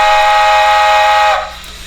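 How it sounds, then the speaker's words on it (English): SoundTraxx decoder playing an L&N Freight three-chime steam whistle, a loud steady chord of several tones sounding alone for over a second before cutting off into a soft hiss. "Let's check this L&N Freight 3 chime."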